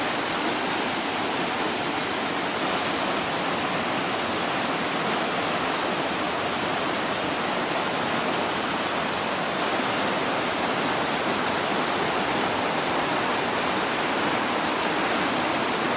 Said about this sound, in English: I wish I could block off this water flow.